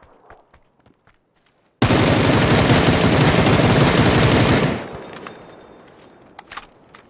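A long sustained burst of automatic gunfire in the video game PUBG, loud and dense for about three seconds, then cutting off into a fading tail with a few faint scattered clicks.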